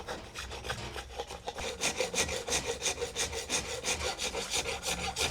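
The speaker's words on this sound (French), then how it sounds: "des outils manuels qui coupent, où on va entendre le bruit du bois se découper" Hand tools cut and rasp wood in a steady back-and-forth rhythm, strokes repeating several times per second with a scratchy, close texture and no voices.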